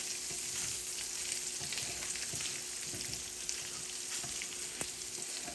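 Butter melts in a pan for sausage gravy, giving a steady, close sizzle with occasional pops and light crackle, no one speaking.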